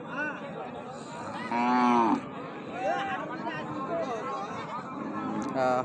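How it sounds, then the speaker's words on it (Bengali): Thin, bony cattle at the Raniganj cattle market moo in several loud, drawn-out calls from close by, over a steady murmur of crowd chatter and bargaining voices. "প্রচুর গরু।"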